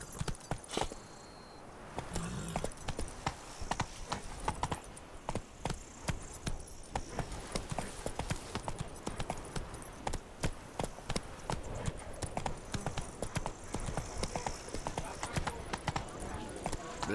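Horse hooves clip-clop rapidly and evenly while riding in The Witcher 3 video game, a steady close rhythm of hoofbeats with game ambience, and a voice speaks briefly over it.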